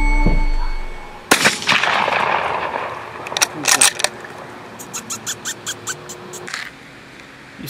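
Several sharp gunshots crack out at night during a predator hunt: a loud report first, then a cluster of quick shots and a rhythmic string of fainter, more distant pops.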